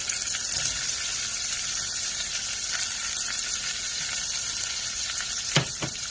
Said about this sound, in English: We're going to start out by putting butter into a very hot pan, and then we're going to add the following ingredients: shallots